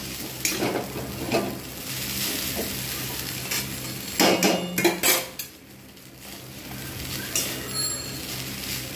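Egg chow mein ingredients being tossed and mixed in a frying pan, with repeated metal utensil scrapes and clinks against the pan over a soft sizzle, in bursts of stirring.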